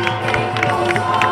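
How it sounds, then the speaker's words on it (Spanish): A festival crowd at a grape harvest celebration in Le Parc, Mendoza, Argentina, claps and cheers in a brief, lively burst of dense applause with shouts mixed in. "Démosle un fuerte aplauso a Emilce Torres."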